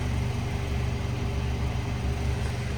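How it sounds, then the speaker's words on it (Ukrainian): A 2013 Opel Vivaro cargo van with a 2.0 CDTI 84 kW diesel idles steadily at the exhaust, a close, continuous low rumble with an even rhythmic throb and no talk. "Ось така вихлопна в нього"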